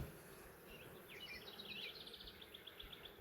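Honeybees hum faintly around two backyard hives opened for a brood inspection, a soft steady outdoor drone with thin bird chirps in the background.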